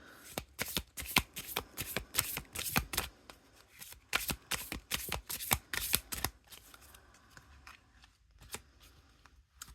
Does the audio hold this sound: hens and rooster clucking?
no